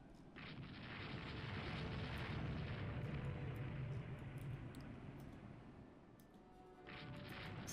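A heavy rumbling blast as an 8-inch shell strikes a warship in the naval game Rule the Waves 2, building into a long roar that fades, then rises again, with no voices.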